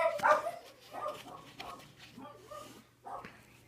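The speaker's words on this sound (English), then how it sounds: "Be quiet, dogs!" Dogs barking and whimpering in short, irregular yips at moderate distance, mixed with people talking.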